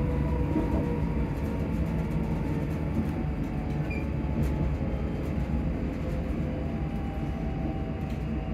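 A train approaching Bathgate station, heard from inside as a steady, loud rumble of wheels on rails with a continuous low drone and faint rattles, unbroken throughout and with no talking.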